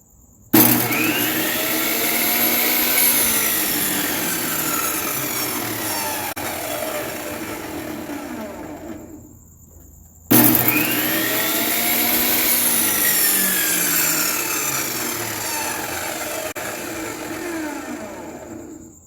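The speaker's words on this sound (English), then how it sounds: "So I couldn't resist grabbing a piece of scrap wood and just running it through." Repaired 10-inch Craftsman table saw running and cutting through scrap wood: a loud steady motor whir with the rising and falling rasp of the blade in the wood, a brief drop, then a second long cutting pass.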